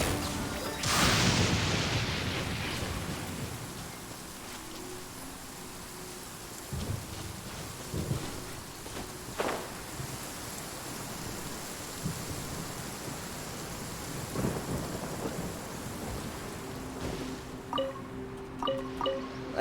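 Steady rain and thunderstorm in the Genshin Impact video game, with a loud thunder crack early on, then a continuous hiss of rainfall punctuated by scattered rumbles and gusts of wind.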